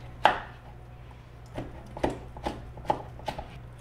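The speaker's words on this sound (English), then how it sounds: "Let's get the rest of these sliced up and put them in our mouth." A knife cuts through smoked ribs on a board, giving a sharp first chop followed by four or five softer, evenly spaced thuds and slices, close and fairly quiet, with no talking.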